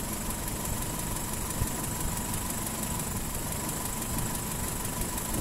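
A Toyota Kijang 5K engine idles steadily while its vacuum setting is adjusted, a continuous close mechanical hum with a faint knocking rhythm and no one speaking.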